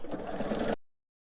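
A sewing machine runs steadily, stitching straight lines on a monogram pillow. The motor whirs in a continuous burst of under a second, then stops, leaving silence.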